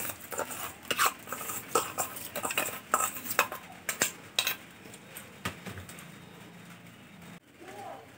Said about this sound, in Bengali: চিনি আর দুধ খুব ভালো করে আমি মিশিয়ে নেব, এভাবে নাড়াচাড়া করে কিছুক্ষণ ধরে